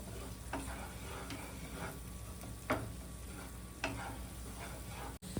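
A spoon scrapes and stirs through sheera in a pan after cardamom powder is added, faint soft strokes with a few clearer taps on the pan against a low steady background, no voices.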